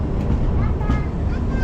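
The NJP-Guwahati Express pulls out of Bijni station on its inaugural run. A steady, rumbling roar of the moving train fills the clip, with faint voices underneath.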